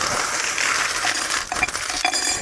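Quarters pour and clatter together in a continuous metallic jingle, with a few sharper clinks near the end as more drop onto the pile.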